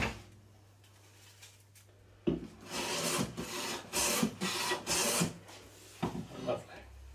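A hand tool cuts along the edge of a wooden board, starting with quiet scraping and then giving louder, irregular rasping strokes up close.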